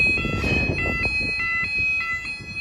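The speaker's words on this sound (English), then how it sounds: "You press the alarm." A fire alarm going off indoors, a steady high-pitched electronic tone repeating in short pulses, moderately loud, over some faint background rustling.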